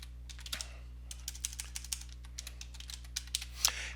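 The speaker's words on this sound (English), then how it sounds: "So we'll type in the password we want to use," Light keystrokes as a password is entered on a computer keyboard, a sparse irregular string of soft clicks over a steady low hum, close and quiet with no talk.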